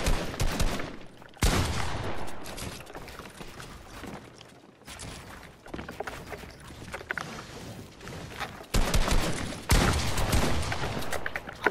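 Rapid bursts of shotgun fire in a Fortnite 2v2 box fight, loud and close, repeated shots with clanking mechanical building sounds between them and no talk over it.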